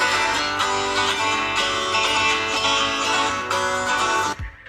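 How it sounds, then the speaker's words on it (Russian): Stereo speakers of a Samsung Galaxy S9 Plus phone play full, bright music for several seconds with steady loudness, ending with a sudden drop and a soft thump. "Это звук с Galaxy S9 Plus"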